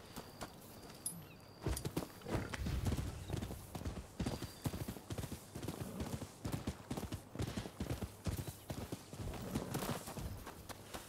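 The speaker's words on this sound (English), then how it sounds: "I need your horse, sorry." A horse in the Rise of the Ronin game clip-clops along in a steady walking rhythm, close and crisp hoof strikes repeating throughout, with occasional soft game sounds in the background.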